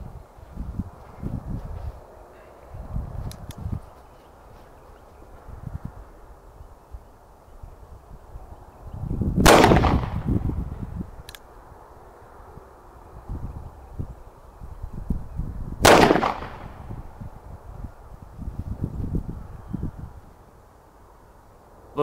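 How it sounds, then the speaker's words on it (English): Two sharp gunshots of CCI Maxi Mag 40 grain full metal jacket rounds fired into ballistic gel, several seconds apart, loud cracks with a brief ringing decay over quiet outdoor rustle. "We're gonna shoot twice from far away, twice point blank."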